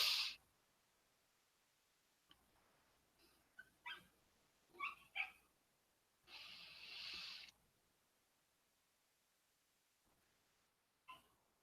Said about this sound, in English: there's a small dog outside my window barking a whole lot.